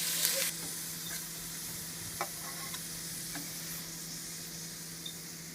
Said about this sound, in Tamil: இந்த வெங்காயம் கொஞ்சம் வதங்குற அளவுக்கு வதக்கிக்கிறோம்